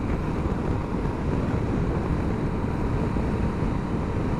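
Wind roar and steady engine drone fill the ride as a 2021 Suzuki V-Strom 1050 XT motorcycle cruises at 70 mph on a dual carriageway, a constant dense rush with no breaks.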